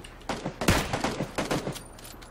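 Rapid bursts of gunfire from the PUBG Battlegrounds video game, several loud sharp volleys crackling in quick succession over about two seconds, with no talking.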